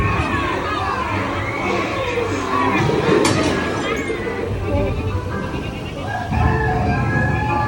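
Hens clucking and squawking during a Disney pirate show, mixed into a noisy crowd and a loud performer's voice, with a brief crow-like call midway amid steady background chatter.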